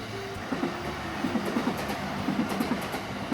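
A train rolls past in Japan with a steady rumble and rhythmic clickety-clack of wheels over rail joints, moderately close, with no voices.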